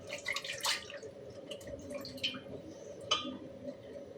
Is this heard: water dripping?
yes